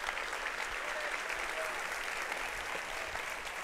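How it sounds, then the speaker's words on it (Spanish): Church congregation clapping together during a Spanish-language Sunday service, a steady sustained wash of applause with faint voices underneath. "dale una ofrenda de palmas al Señor"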